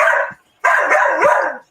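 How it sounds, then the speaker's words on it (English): Dogs barking in two loud, close bursts of yapping, separated by a short silence. "it got doggies barking and a lot of clanging metal back there"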